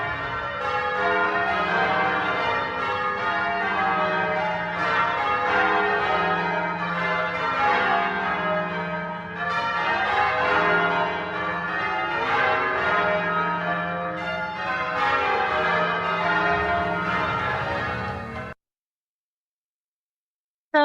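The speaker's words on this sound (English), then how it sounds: "bells are rung in permutations, which are shufflings or rearrangements. Change ringing takes a team effort with each person responsible for one bell." Church bells in change ringing, a team of ringers each sounding one tower bell in shifting permutations; dense overlapping peals ring out steadily and loud for most of the stretch, then stop abruptly into silence.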